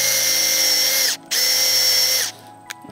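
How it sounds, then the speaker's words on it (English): A power drill fitted with an auger whines loudly while boring a hole in a grassy lawn, in two steady bursts separated by a brief pause before it winds down. "So I put it onto a power drill."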